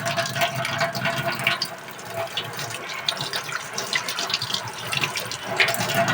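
Tap water runs steadily into a sink while hands are washed beneath it, a continuous close splashing rush with small irregular splatters as the hands move through the stream.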